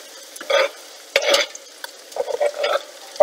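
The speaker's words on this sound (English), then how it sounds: "I'm gonna stir till it all melts." Cheddar cheese soup being stirred in a pot until the cheese melts, with a spoon scraping and clinking in short repeated bursts, close and fairly loud, alongside faint sizzling.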